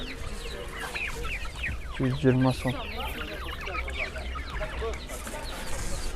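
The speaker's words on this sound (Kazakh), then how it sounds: "Домашний балапандар." Young domestic chicks cluck and peep at a poultry section of a livestock market, with a brief louder burst of clucking amid steady bird chatter and nearby voices of buyers talking.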